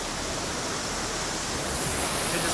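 Water pours off the top of a rock at Bear Cave in a gorge at Franconia Notch, a steady, broad rushing wash like a small waterfall that holds unbroken and close throughout, with no voices.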